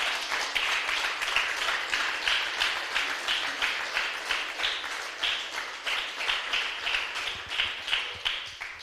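Church congregation clapping in a steady rhythmic beat, many hands in unison at a regular pulse, sustained and moderately close with no talking over it.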